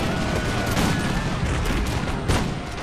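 A dense crackling volley of musket fire in the video game Empire: Total War, many shots overlapping in a continuous rattle with a sharper burst near the end.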